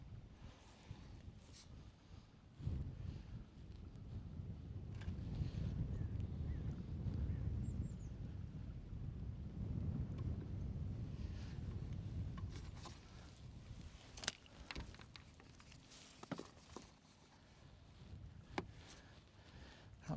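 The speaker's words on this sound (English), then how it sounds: "That wind's a bit of a pain." Wind buffets an outdoor fishing lake at a fishery, a low rushing roar that swells through the middle and then eases, with occasional sharp knocks and clicks close by.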